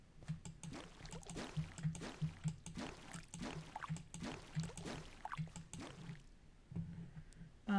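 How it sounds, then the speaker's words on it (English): Water sounds in the video game Minecraft: repeated splashing and sloshing in a loose rhythm, moderately close, with brief pauses and no speech. "So many water sounds."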